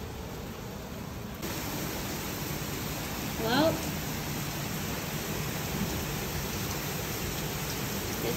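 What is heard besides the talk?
heavy rain pouring in Chicago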